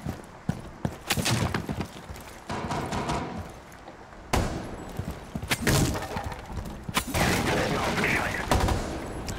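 Gunfire in Rainbow Six Siege as a player shoots at a hologram: loud, sharp shots and short rapid bursts strike in irregular clusters over several seconds, with clattering impacts between them.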